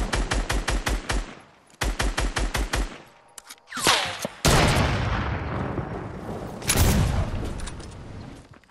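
Gunfire in a video game sniper battle: rapid, evenly spaced bursts of shots in two quick strings, then several heavy booming blasts and a long reverberating roar. The shots are loud and close, with no voices over them.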